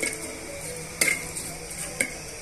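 Whole spices for bagara rice fry in a pan, giving a soft, steady sizzle with two sharp clicks of a utensil against the pan; no talking.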